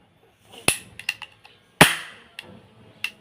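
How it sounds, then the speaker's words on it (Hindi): A Diwali toy cap gun fires two sharp, loud cracks about a second apart, each followed by smaller clicks and snaps of the mechanism being handled and reloaded. "फर्स्ट ये वाला गन रीलोडिंग है, अभी आपको ट्रायल करके दिखाता हूँ।"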